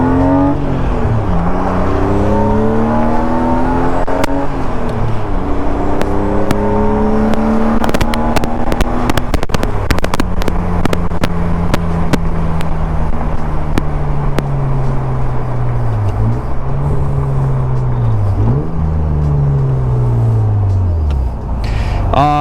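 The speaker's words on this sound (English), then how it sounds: "Downshifts are just really easy with this floor mounted throttle." A BMW E36 Cabriolet's engine revs up and drops repeatedly as the driver shifts gears through a floor-mounted pedal setup, a loud close rising drone interrupted by sharp shift clicks and dips.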